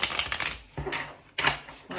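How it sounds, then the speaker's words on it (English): A tarot card deck is shuffled in quick bursts: a rapid riffle of papery slaps, then two shorter shuffling flurries after brief pauses, close and fairly quiet. "we will give the deck a few more shuffles"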